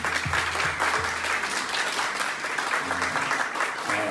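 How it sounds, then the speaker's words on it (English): Audience applause for a parenting panel discussion, steady massed clapping with a few low murmurs and faint voices underneath, holding evenly throughout. "So please join me giving a huge round of applause to our amazing panel."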